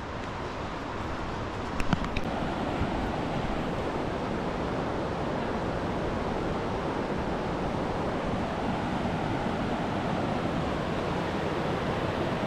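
Modi river snowmelt water rushing along the Annapurna base camp trek, a loud, unbroken roar of flowing water that fills the whole stretch, with a couple of faint clicks early on.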